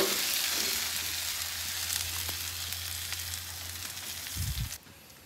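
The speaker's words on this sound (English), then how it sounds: "Start frying those hash browns." Hash browns sizzle loudly in bacon grease on a Pit Boss Ultimate Griddle in a constant crackling hiss, fading slightly before a brief clatter and a sudden drop near the end.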